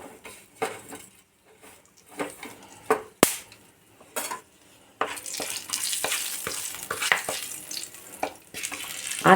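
Whole cardamom, cloves, peppercorns and cinnamon sizzle in a few spoonfuls of oil over a low flame while a spoon stirs and taps against the pan, the frying rising into a steady hiss during the second half.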